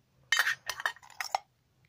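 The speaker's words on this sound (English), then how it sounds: "Personally, I'm taking my old faithful gas stove." An old gas camping stove clinks and rattles in quick, close metallic bursts as it is handled, then goes quiet.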